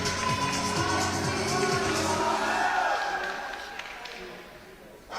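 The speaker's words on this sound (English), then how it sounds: "there's a great cheering going on here in the wall in Sunderland" A crowd cheers and shouts in a loud, sustained wash at an ice climbing competition on an indoor climbing wall in Sunderland, UK, with a commentator talking over the noise before it fades toward the end.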